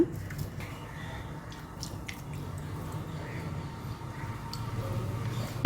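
Hands mix cauliflower florets with masala for chilli gobi, giving soft, wet squishing and sticky kneading sounds with faint drips, close and steady throughout.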